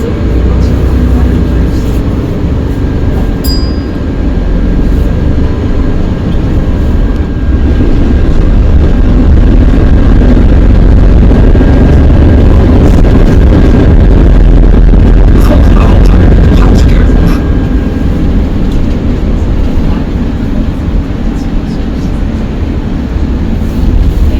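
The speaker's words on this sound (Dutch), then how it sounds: "Luister goed naar de motor" A loud, steady Mercedes-Benz Capacity L bus engine drones on continuously, deep and rumbling, with a faint high whine and occasional rattles over it.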